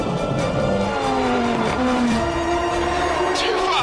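A fast car roars around a race track lap, its engine pitch climbing in stepped gear-by-gear sweeps, loud and continuous with faint tire noise.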